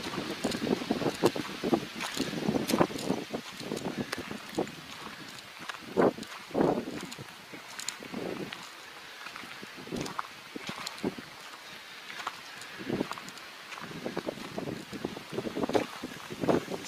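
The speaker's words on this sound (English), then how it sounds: "See, the wind is quite strong. Look at that. That gust of wind." Strong gusty wind on a natural mountain meadow at about 6,200 feet in the Roan Highlands batters the microphone in irregular loud bursts and rumbles, easing between gusts.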